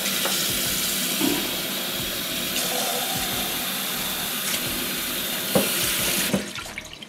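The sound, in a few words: pouring water into brownie mix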